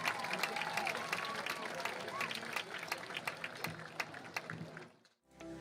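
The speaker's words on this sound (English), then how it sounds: "get another round of applause for the Hilldale Crimson Vanguard Marching Band." A football game crowd applauds for the high school's crimson-clad marching band, a distant textured spread of clapping with scattered louder claps and crowd murmur, cutting out abruptly near the end.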